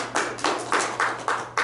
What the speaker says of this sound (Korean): 박수로 영광 한번 돌립시다.